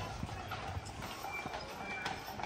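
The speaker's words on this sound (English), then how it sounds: "See down there, one of the horses." Carriage horse hooves clip-clopping on a road on Mackinac Island, a steady, faint rhythm of light knocks heard from a distance amid outdoor ambience.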